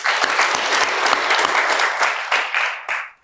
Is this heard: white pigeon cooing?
no